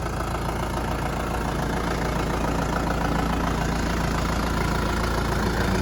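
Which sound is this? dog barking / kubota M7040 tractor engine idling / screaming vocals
kubota M7040 tractor engine idling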